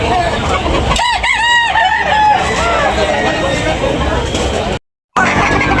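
Roosters at a chicken sale, one crowing loudly close by amid clucking and a crowd's background chatter, with a brief dropout near the end.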